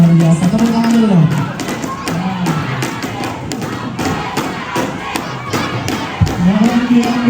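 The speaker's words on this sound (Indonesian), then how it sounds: "tepuk tangan dulu dong." A crowd claps and cheers at a school awards ceremony in a dense, continuous burst, with a voice calling out over the applause at the start and end.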